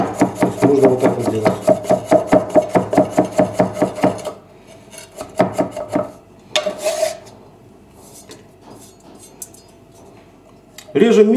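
A Chinese cleaver chops meat finely on a wooden board for chopped cutlets, with rapid, evenly spaced loud thuds for about four seconds, then a few scattered knocks and scraping amid quieter pauses.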